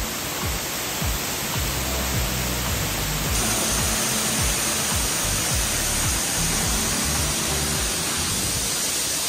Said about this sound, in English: And here we are at the beautiful Nam Wang Waterfall.